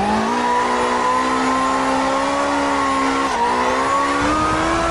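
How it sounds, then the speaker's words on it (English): A Nissan S13 drifting and doing a burnout in a housing-complex driveway in CarX Drift Racing on mobile, with a loud sustained engine drone held at high revs and steady tyre squeal throughout, no speech. "Burning out in this guy's damn driveway."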